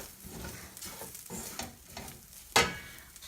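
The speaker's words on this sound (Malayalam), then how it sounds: "ആ പൊടികളൊക്കെ ഇനി ഒന്ന് നന്നായിട്ട് മൂപ്പിച്ചെടുക്കാം." Coriander powder and meat masala roasting with onion in a pan for green peas curry, a soft close sizzle with stirring scrapes and one sharp clatter near the end, no talk.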